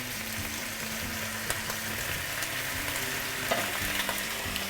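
Squash and zucchini sauté in oil, a soft, even sizzle holding steady throughout with a few faint ticks and pops.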